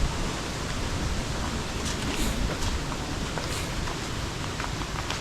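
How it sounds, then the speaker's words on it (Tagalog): Strong wind roars continuously into an outdoor microphone beside a parked car on a narrow road, a dense, steady rush of buffeting noise with no clear voices. "sobrang lakas ng hangin."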